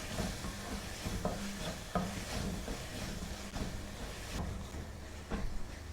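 A spoon scrapes and stirs through thick sizzling blended tomato masala in a pan for pepper chicken, with repeated knocks against the metal and steady frying underneath.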